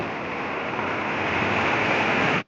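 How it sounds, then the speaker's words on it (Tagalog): Dense, steady roar of heavy rain pouring down nonstop in Pangasinan, loud and close, cutting off abruptly at the end. "Ngayon, napakalakas na po ng ulan."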